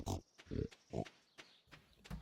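Pigs on a farm in the video game Stardew Valley give a series of short, fairly soft grunts in a regular, evenly spaced rhythm, with quieter clicks between them.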